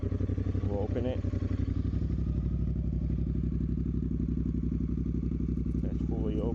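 A 2022 Triumph Bonneville Speedmaster fitted with a Dr. Jekill & Mr. Hyde exhaust set fully open idles loud and close with a deep, throbbing, lumpy rumble and light clatter, rising slightly in a couple of short blips.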